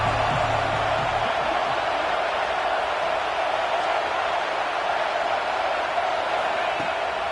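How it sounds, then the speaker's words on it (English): Football stadium crowd at a Notre Dame versus Arkansas game, a dense, steady roar of many voices filling the whole stretch, with a brief announcer's voice near the start. "This crowd ready to make its presence known."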